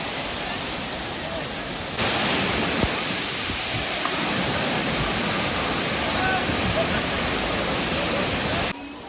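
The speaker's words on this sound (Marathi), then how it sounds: "मंडळी हा आहे सवतकडा धबधबा" The Savatkada waterfall in Rajapur, in the monsoon, roars as a loud, steady rush of falling water, close and continuous, swelling abruptly after a quieter opening and cutting off near the end.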